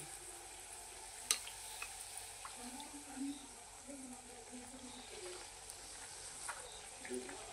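Puri frying in hot oil, its edges crisping, for a Navratri halwa puri chana offering: a faint, steady sizzling hiss with occasional small pops and crackles over a soft low murmur.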